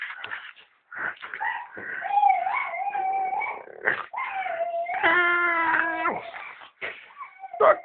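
A Staffordshire bull terrier plays with its owner's hand, giving close whines, yips and a drawn-out howling whimper between pauses, with no talking over it.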